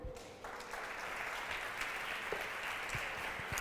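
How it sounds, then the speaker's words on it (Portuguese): Congregation applauding during a church service, a continuous spread of clapping that swells in after a brief quieter start and carries on steadily, with a few louder individual claps. "Aplauda Ele."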